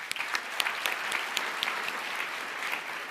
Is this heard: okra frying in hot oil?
no